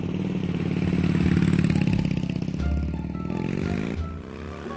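A cartoon motorbike engine runs with a steady buzzing drone whose pitch wavers and shifts, fairly loud and close, with a slight rattle as the ride goes on.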